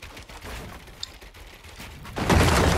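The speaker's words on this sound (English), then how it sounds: "What if I use the repeater rifle?" Repeater rifle fire in the video game Fortnite: a steady bed of gunfire and clatter, with a single sharp crack early on and a louder, denser burst of shots toward the end.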